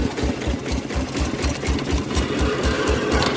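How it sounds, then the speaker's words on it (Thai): A two-wheel tractor with a broken bearing runs at low speed, producing a fast, steady knocking rattle of evenly spaced thuds over a mechanical whir, close and loud. "มีเสียงเพราะว่าลูกปืนมันแตก"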